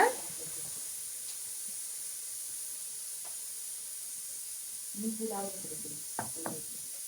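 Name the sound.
ginger garlic paste sizzling in the pan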